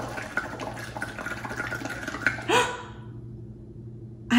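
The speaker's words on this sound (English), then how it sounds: "Oh, I hear bubbles." Bubbles blown through water inside a pumpkin gurgle in short, faint bursts, with a louder splashy burble midway and another at the end against a quiet background.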